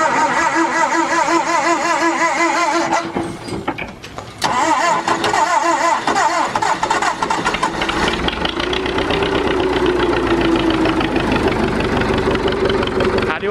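An antique forklift engine cranks, catches and runs with a loud, close, rough mechanical clatter, settling into a deeper steady idle with some revving toward the end.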